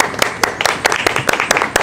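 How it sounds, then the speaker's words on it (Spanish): Studio audience applause on a television talk show, a short burst of brisk, fairly loud clapping with fast, uneven beats. "Un aplauso, por favor."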